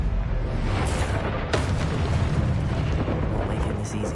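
A Confringo fire spell bursts with a loud explosive boom partway through, amid continuous rumbling combat noise in the game Hogwarts Legacy.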